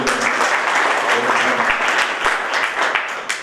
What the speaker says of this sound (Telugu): ఈ వారోత్సవాల తొలి రోజు ఆయనకు హృదయపూర్వకంగా చప్పట్లతో స్వాగతం తెలియజేయవచ్చు